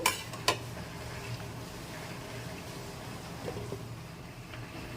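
A lid clinks down onto a pot of fish curry with mrigal fish and eggplant, giving two sharp metallic knocks at the start. A steady low simmering hiss follows and carries on alone.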